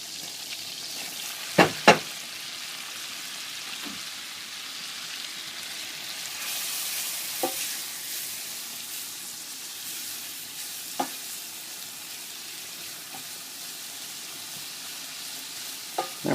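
Cured ham frying in melted butter gives a steady, soft sizzle with occasional scraping stirs and a few sharp knocks, moderately close and without any voices.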